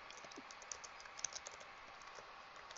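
Quick, light clacking of keys on a computer keyboard as a short word is typed, steady soft taps close by with no voices.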